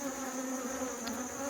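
Honey bees buzzing around a frame lifted from a hive in a summer split, a dense steady drone of many wings close by, with no one talking.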